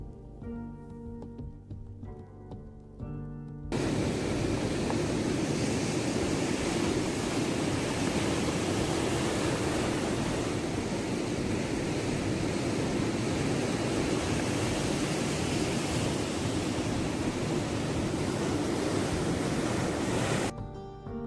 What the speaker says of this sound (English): Thank you for the ocean sounds.